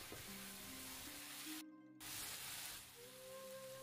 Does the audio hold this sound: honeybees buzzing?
no